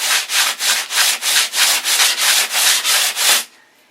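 Rhythmic back-and-forth strokes of a sanding block rasp across wood, about eleven even passes, loud and close, then stopping abruptly.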